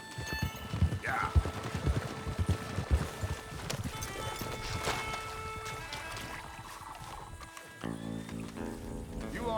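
A horse gallops in Red Dead Redemption 2, hooves clopping rapidly and unevenly under ambient game sound, fading into softer movement as voices come in briefly near the end.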